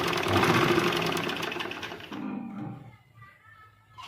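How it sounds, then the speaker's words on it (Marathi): A sewing machine stitches a half-inch seam on blouse lining fabric, running steadily and loudly for about two seconds, then pausing and slowing into softer, intermittent stitching. "अर्धा इंच व्यवस्थित हाताच्या सहाय्याने कापडाला सावरून अर्धा इंच शिलाई मारून घ्यायची।"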